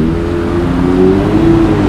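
Motorcycles revving loudly and close by on a ride to Bandung, a continuous rough engine drone with shifting pitch and no pauses.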